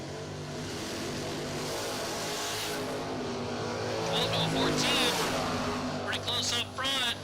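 IROC Camaro drag race car charging down the strip at a drag event, a steady loud engine roar holding throughout with a rising higher-pitched whine near the end, under a crowd and announcer talking.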